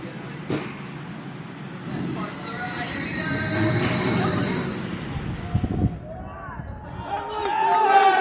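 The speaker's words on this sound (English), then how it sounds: "We just witnessed a rollback on Flash vertical velocity." The Flash Vertical Velocity roller coaster train at Six Flags Great Adventure rolls back down the track with a sustained rumbling roar and a high metallic wheel whine, then fades, with crowd voices and clatter toward the end.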